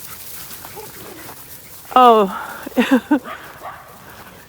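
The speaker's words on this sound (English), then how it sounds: "Good dogs." Australian Shepherd dog giving a sharp bark followed by a few short whimpering yips, close and clear over quiet outdoor background, with a brief spoken word.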